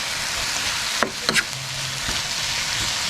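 Food sizzles and fries steadily in a pan for a home-cooked family meal, with a few sharp utensil clinks and scrapes of stirring over the continuous hiss; no talking.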